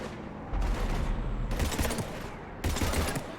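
Mass Effect game gunfire: bursts of rapid shots in three loud clusters separated by short gaps, dense and close, with no talking.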